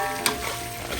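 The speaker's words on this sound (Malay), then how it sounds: "Ini di sebelah ini ada kentang goreng. Sudah masak kawan, sudah kering sudah." Potatoes frying dry in a pan sizzle steadily and close by, with a brief clatter of stirring near the start.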